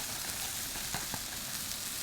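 A tablespoon of flour sizzles in a hot pan as it cooks into a roux for katsu curry sauce. A steady crackling fry holds throughout, broken by a couple of faint stirring taps.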